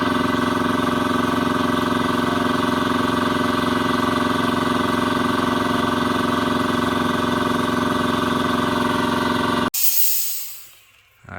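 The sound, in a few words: McGraw air compressor running and filling its tank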